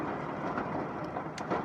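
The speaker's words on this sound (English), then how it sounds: "there's a lot of hail coming down" Dense, steady pattering of hail, a continuous broadband rush with no voices, constant loudness throughout.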